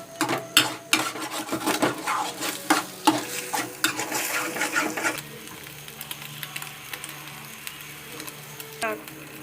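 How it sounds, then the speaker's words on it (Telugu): A pan of Maggi noodles is stirred after salt is added, giving busy close scraping and clinking for several seconds before it settles into a quieter sizzle, with a brief scrape near the end. "కొంచెం ఉప్పు వేసిన తర్వాత కలుపుకుందాం."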